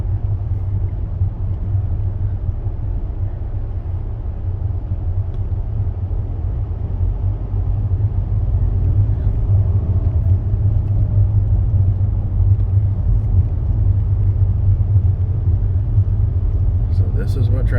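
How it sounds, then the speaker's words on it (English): Steady Seattle freeway traffic heard from inside a car stuck in a slow stretch near the convention center building over the road, a continuous low rumble of engines and tires that grows slightly louder midway. "So this is what traffic's going to be like for the next half an hour."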